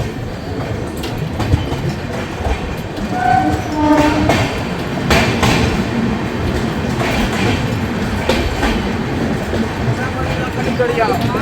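The 12318 Akal Takht Superfast Express, on its Patna to Kolkata run, stands at Mokama station with a continuous rumble and clatter of rail cars and a hint of horn, while voices murmur on the platform.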